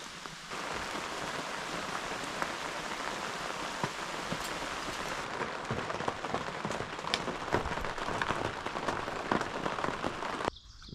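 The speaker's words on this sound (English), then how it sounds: "listen to the rain, it's great." Steady rain drums on an inflatable hot tent at a rustic campground, a dense continuous patter with scattered louder drops close overhead, heard alone without voices for most of the stretch.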